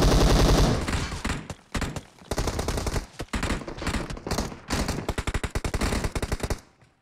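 Rapid M16 rifle fire in a shooting video game, loud and close, with dense sustained automatic bursts broken by short pauses, then a final quick string of separate shots before fading out.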